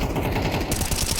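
Rapid automatic gunfire in a Counter-Strike match, bullets punching through walls, a dense continuous burst of shots filling the whole moment with steady loudness.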